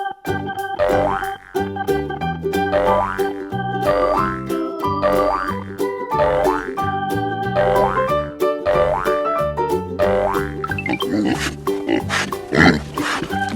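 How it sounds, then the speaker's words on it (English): A pig oinking in a children's animal-name learning piece: a string of repeated grunting oinks in a bouncy rhythm over a musical backing, with no speech. "That's right. I'm a pig."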